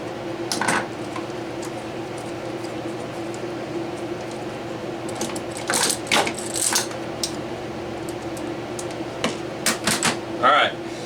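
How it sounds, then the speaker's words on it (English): Small screws being backed out of the rear housing of a primer alarm round counter for a Loadmaster reloading press, with faint metallic clicks and taps against a steady background hum. "So take the screws out of the back."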